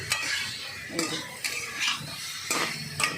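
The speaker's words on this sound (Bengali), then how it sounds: "এই যে জাস্ট একটু তেলে নেড়ে নেব, নেড়ে নামিয়ে নেব।" A utensil stirring soft, overcooked food in a little oil in a pan, with a few distinct scraping strokes over a light sizzle, close and clear with no talking.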